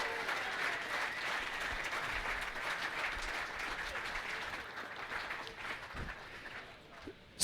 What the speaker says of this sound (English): let's give a big round of applause for Shane Steadman